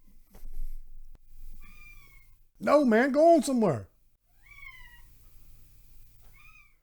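A house cat meows loudly and close in one long, wavering, drawn-out cry in the middle, with someone speaking briefly before it and softer high chirps or squeaks scattered around it.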